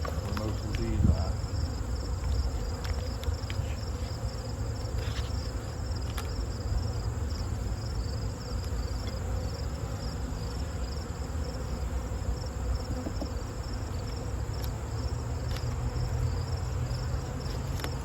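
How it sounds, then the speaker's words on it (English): Honeybees hum around a hive with a brood chamber full of bees, a quiet, continuous drone with a steady high insect whine over soft rumbling handling noise, no talk heard. "Bottom brood chamber is full of bees."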